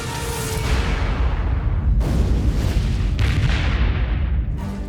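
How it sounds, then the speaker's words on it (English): A series of massive explosions at a huge fire near London on a Sunday morning: sustained deep booming rumble with repeated heavy blasts, loud and continuous throughout with no voices. "A tranquil Sunday morning is interrupted by a series of massive explosions."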